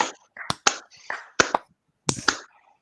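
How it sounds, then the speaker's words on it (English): A handful of sharp hand claps and snaps in a short scattered burst, fairly close, with uneven spacing and quiet gaps between. "let's just all clap"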